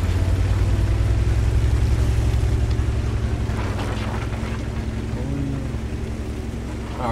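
Tank engine in a tank video game, a continuous loud low rumble with a steady churning texture that runs unbroken through the whole stretch.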